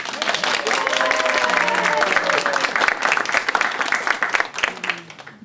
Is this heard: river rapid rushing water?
no